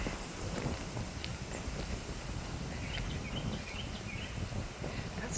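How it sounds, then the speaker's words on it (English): Strong wind gusting steadily outdoors in Oklahoma, a continuous low rumbling roar buffeting the microphone with faint birdsong above it, no talking. "Can you feel the wind?"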